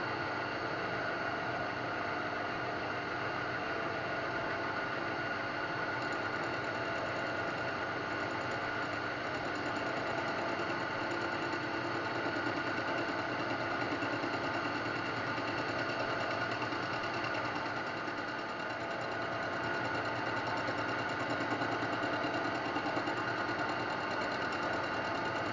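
A milling cutter flattens a Solex carburettor casting, running as a steady, dense whirring drone that stays even and unbroken throughout, close and moderately loud with no voices.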